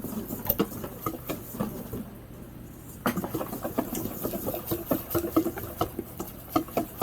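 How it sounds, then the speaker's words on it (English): Powdered sugar being whisked by hand into a lemon glaze for a blueberry pound cake: quick, rhythmic scraping and tapping of the whisk against the bowl, close and continuous with a short pause midway. "I just want to give it a nice little whisk."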